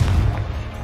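Confringo blasting curse in Hogwarts Legacy inside a cave: a single loud, deep boom that opens sharply and fades quickly into a low rumble.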